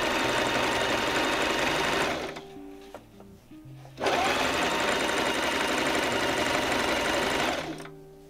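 A sewing machine stitches fabric for a corner hammock for guinea pigs, whirring loudly in two long bursts with a short quiet pause between them and a brief stop at the end.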